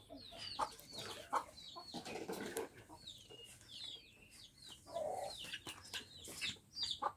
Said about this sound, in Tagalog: Mga manok guys.